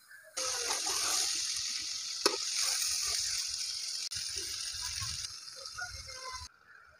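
Brinjal sautéing in oil in a pan, a steady bright sizzle with soft crackles and one sharp pop, running continuously for several seconds before cutting off.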